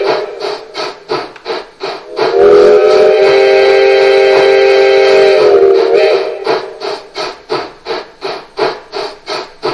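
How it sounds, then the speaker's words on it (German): A gauge 1 model DB class 10 steam locomotive (10 001, KM1 Modellbau) runs on a roller test stand, its rhythmic chuffing broken by a loud, steady steam whistle lasting about three seconds before the chuffs resume. "Und schließlich qualmt es auch noch aus der Dampfpfeife, wenn man mit F2 oder F3 den Pfiff der Lok aktiviert."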